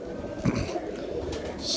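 Old pigeons kept by a Pakistani fancier coo softly a few times at a distance, faint against a low background hum.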